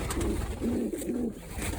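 A pigeon coos softly nearby, a few low throaty warbling calls in a short rolling sequence.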